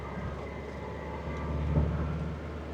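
A 1979 Mercedes 240D diesel engine pulling steadily at low throttle on a mountain road, a continuous low droning rumble inside the cabin that swells slightly midway.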